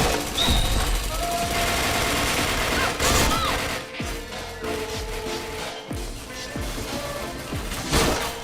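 Gunfire in the Point Blank shooting video game: dense bursts of automatic fire and sharp single shots with impact thuds, loud and continuous over game effects.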